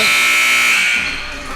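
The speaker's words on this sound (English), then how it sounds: "Prochinsky is unable to get the shot off before the buzzer sounds." A loud, steady electronic buzzer sounds at the end of play in a junior varsity boys basketball game and holds for over a second.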